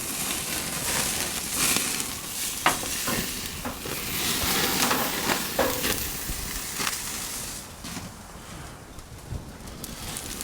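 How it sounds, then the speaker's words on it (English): Tomahawk steaks reverse searing on a Monument Grills Mesa 420MF grill, a steady broadband sizzle with occasional pops and crackles, fairly close and continuous, with faint birdsong in the background. "Boy, that's got a nice sear happening there"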